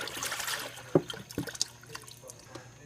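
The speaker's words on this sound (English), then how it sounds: "Okay, so we top off the coolant." Coolant poured into a VW Audi cooling system during a heater core flush, trickling and dripping faintly in close range, with a few small splashes and knocks.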